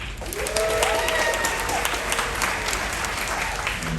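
Audience applause aboard a cruise ship during an announcements session, steady dense clapping from a crowd that holds for the full four seconds.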